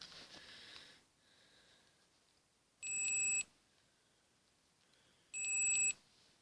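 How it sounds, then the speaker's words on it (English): A multimeter in continuity mode gives two short, sharp electronic beeps a few seconds apart, clear and close against faint background noise. "Switch it to beep mode."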